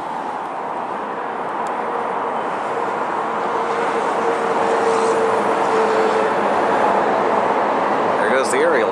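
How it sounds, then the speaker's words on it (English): An aerial tram passes overhead near a pedestrian bridge over a highway, a steady mechanical hum and rumble droning on, slowly swelling louder as it passes, with speech murmuring faintly underneath. "There goes the aerial tram."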